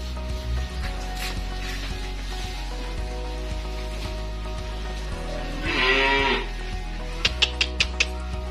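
Cattle at a livestock pen, a single drawn-out moo rising from the near background over a steady low hum, followed by a quick run of sharp knocks.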